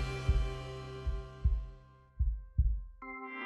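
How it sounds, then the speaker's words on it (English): Four deep, thudding heartbeat hits added to a song mix pulse at a steady slow rhythm, each low and booming, before a sustained musical tone enters at the end. "I thought it felt better when I add a 4th heartbeat"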